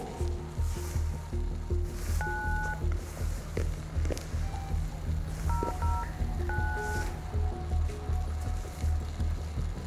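A telephone number is dialed on a keypad, with a series of short, evenly spaced tone beeps in quick bursts over a low background rumble.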